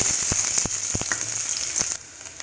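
Green chili and onion sizzle in coconut oil in a pan for Kerala street-style egg and tapioca, a bright continuous hiss with scattered sharp pops and spatters that suddenly drops off near the end.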